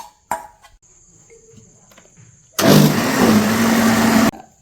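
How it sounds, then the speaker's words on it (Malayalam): A mixer grinder grinding jackfruit with a rava and milk mix starts abruptly after a quiet stretch, a loud, dense whirring roar lasting about two seconds before cutting off. "ഇതും കൂടി നമുക്ക് അരച്ചെടുക്കാം"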